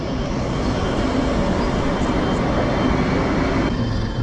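Passenger train pulling into a station, a steady broad rumble with rolling noise that holds evenly throughout, moderately loud and without speech.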